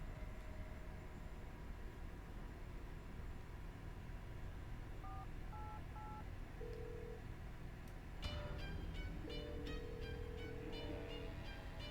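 A telephone keypad dialed to call an ambulance, a few short isolated beeps followed by a quicker run of tones, faint over a low continuous background hum.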